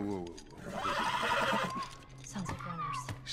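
A horse whinnies loudly with a wavering, rising-and-falling call, while people talk over it, in the video game The Last of Us.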